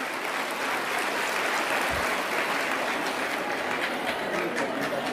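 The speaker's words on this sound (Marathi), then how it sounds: "टाळ्या वाजवायच्या तर जोरात वाजवा." Audience applause at a Raksha Bandhan event in Maharashtra, steady dense clapping from a large crowd that fills the whole stretch without letting up.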